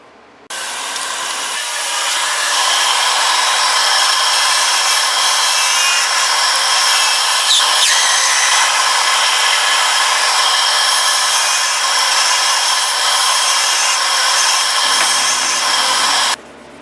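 A wood lathe spins a striped blank, giving off a steady, loud whirring and scraping roar that starts abruptly, holds evenly for about fifteen seconds, then cuts off, with no voices over it.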